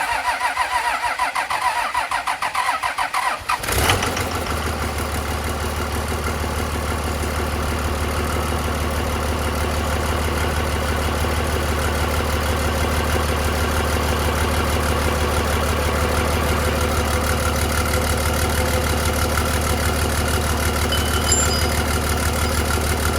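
A 2003 common rail 5.9 Cummins diesel engine, swapped into another vehicle, cranks briefly and then catches, settling into a steady, loud, continuous idle that runs on for nearly twenty seconds with no talking.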